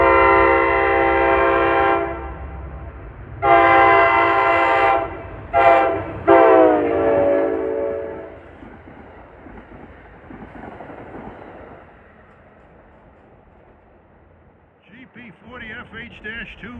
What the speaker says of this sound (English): 503 approaching is train 53, the second train of the Port Jervis rush hour fleet